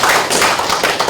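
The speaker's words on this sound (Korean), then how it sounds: "다시 박수 보내주시죠" Audience at a Korean conference on artificial intelligence in everyday life breaks into a short burst of dense, close applause, the clapping steady and full for about a second.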